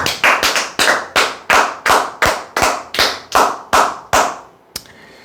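An audience claps together in a steady, even beat, about a dozen strong, close claps for a department store's flood-relief donation, ending with one softer tap before the room falls quiet.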